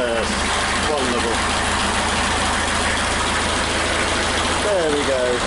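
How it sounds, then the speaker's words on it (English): A narrowboat engine idles on worn-out engine mounts, a steady loud low throb with a persistent rattle and occasional squeaks running throughout. "the engine mounts are knackered, which is quite a rattle"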